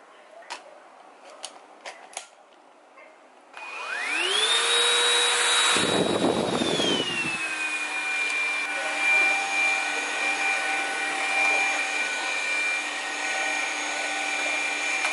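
A Tefal vacuum cleaner switches on and its motor spins up to a loud, steady whine with a rising pitch. A brief deeper surge comes in the middle, then the motor settles into a continuous hum after a few faint clicks at the start.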